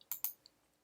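Computer keyboard shortcut keys, spacebar and Command Option, pressed during photo editing: two quick, crisp clicks close together followed by a fainter third tap, close and quiet, with no talking.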